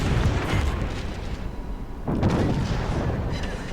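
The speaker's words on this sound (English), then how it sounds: "the 3 Citadel shots coming off the back end, off the stern guns, that was pretty killer" Warship stern guns firing in the naval game World of Warships, two heavy booming salvos with a rolling rumble between them, loud and close.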